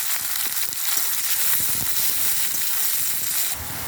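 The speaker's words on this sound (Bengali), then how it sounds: "এর মধ্যে আমরা কুচনো পেঁয়াজ দিয়ে হালকা ভেজে নেব" Chopped onions frying in a pan, a steady broad sizzle with faint crackles, close and continuous for a few seconds.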